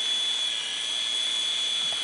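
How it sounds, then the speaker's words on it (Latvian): Helicopter rotor and turbine whine during a flight, a steady high-pitched drone that holds loud and unbroken for the whole stretch with no talk over it. "Un Helikopteris."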